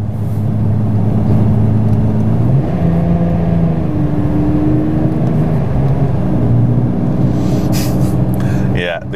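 BMW E46 M3 with SMG gearbox driving under load, engine droning steadily as paddle-shifted gear changes step the pitch up and down in distinct jumps, close and loud inside the cabin.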